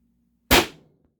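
Intrubuster Gen2 air rifle firing a single shot, one sharp, loud, close crack with a brief decaying tail, otherwise quiet.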